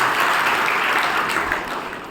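A crowd at a Brahma Kumaris health talk breaks into loud, dense applause, a thick continuous clatter of many hands that holds steady and then begins to ease off toward the end, with no speech.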